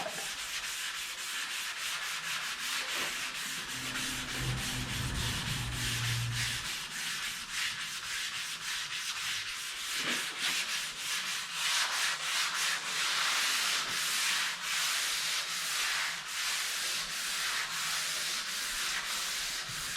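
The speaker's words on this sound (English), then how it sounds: "I love this Evercoat. Man, this stuff sprays out and sands so beautifully." Evercoat body filler sanded dry with 320 grit paper on a car body, a continuous loud, close rasping scrub of steady back-and-forth strokes with no talking.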